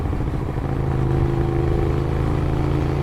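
A Hyosung GTR 250 motorcycle engine runs steadily at close range, its exhaust giving a continuous, even mid-pitched drone with a slight rattle throughout, no voices present.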